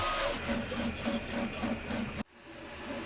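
A Prusa MK3S 3D printer runs a print after repair, its stepper motors giving a steady, rhythmic mechanical whir with regularly pulsing tones, close and continuous before cutting to a quieter room hum.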